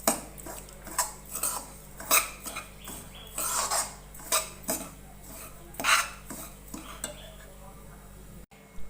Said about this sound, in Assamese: এয়া মোৰ সুজিখিনি ভাজি অলমোস্ট হৈ গৈছে